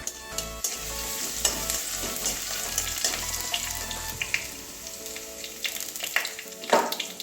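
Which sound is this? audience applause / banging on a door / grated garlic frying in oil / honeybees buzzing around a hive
grated garlic frying in oil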